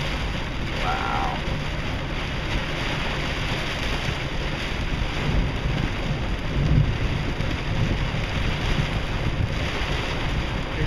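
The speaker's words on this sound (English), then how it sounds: "Look at that wind whipping the water up" A thunderstorm in Waco, Texas, with wind whipping water and hail falling, a loud continuous roar of rain, wind buffeting and hail that never lets up, with brief faint voice sounds.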